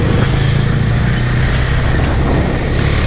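A 2017 KTM Duke 390 motorcycle engine held at full throttle gives a loud, steady, sustained roar without letup, with no talking.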